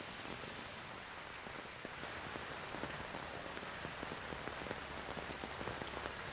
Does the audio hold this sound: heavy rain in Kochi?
yes